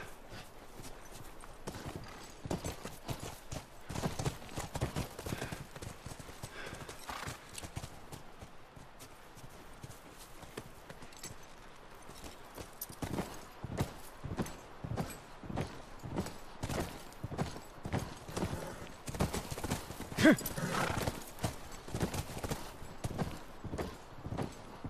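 Horse hooves clip-clop steadily in The Last of Us Remastered, a regular walking rhythm of close, moderately loud hoofbeats continuing throughout with some faint ambient noise.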